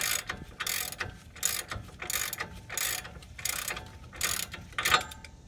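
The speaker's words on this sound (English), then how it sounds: "And continue torquing down the bottom one." A ratchet wrench torques down the lower control arm bolt on a Dodge Ram in a steady run of clicking strokes, each a short burst at a regular rhythm; close, with no talking.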